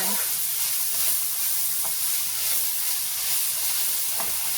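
Ground meat fries in a pan as taco seasoning is stirred in, a steady close sizzle and hiss with faint scraping, heard alone and fairly quiet.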